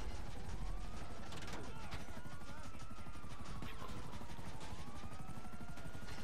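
Police helicopters in Call of Duty Ghosts: a continuous whirring rotor drone with sweeping pitch, thick with mechanical clatter and bursts of distant gunfire, running steadily throughout.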